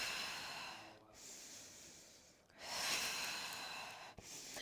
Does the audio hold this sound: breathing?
yes